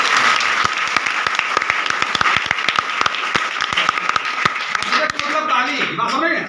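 Students in a school hall applaud during a career counselling talk, a sustained, loud round of clapping with distinct sharp claps standing out, then tapering off as a voice begins near the end.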